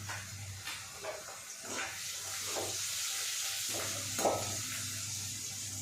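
Long-sliced big onions frying in a pan for a dried-fish thokku, a soft steady sizzle with faint scraping stir strokes now and then, quiet and close, with no voice.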